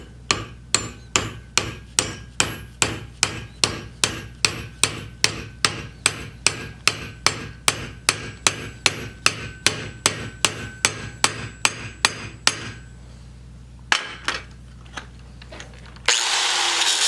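A hammer taps a wedge into the handle of a forged hatchet, striking in a steady, close run of about thirty even blows, then pausing with a couple of stray knocks before a burst of noise at the end.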